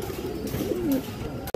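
A pigeon in a loft of silver Bagha pigeons gives a single close, clear low coo that rises and falls, ending with a sharp knock.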